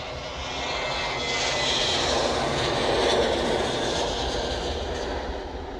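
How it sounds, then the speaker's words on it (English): A Turkish Airlines Airbus A330 heavy jet departing from Manchester Airport in the evening produces a loud, sustained engine roar that swells and then slowly eases, with no voices over it. "See the Turkish A330. Should just come into shot any second. It's our first heavy departure of the evening."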